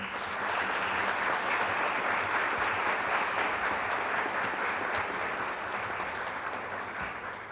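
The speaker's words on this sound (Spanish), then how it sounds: "Quiero que le den un gran aplauso" An audience at a tourism legislation forum in Mexico City applauds, a sustained, even wash of clapping that holds steady for several seconds and tapers slightly at the end.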